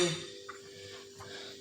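Rasmalai dough is mixed with ghee or oil in a bowl, giving a couple of brief faint clinks of a utensil against the dish over a quiet hum.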